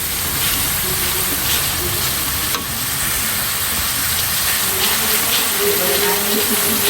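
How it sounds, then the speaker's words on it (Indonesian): Chili fried with shrimp paste hisses and sizzles in a pan while being stirred. A steady frying crackle runs throughout, with a few scraping strokes. A voice talks faintly over it. "Untuk proses pembuatannya juga diaduk-aduk seperti ini"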